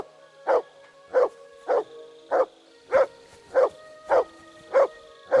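A dog barks in the medieval role-playing game Kingdom Come: Deliverance II, giving nine or ten evenly spaced, clear, close barks over quiet ambience with no voices.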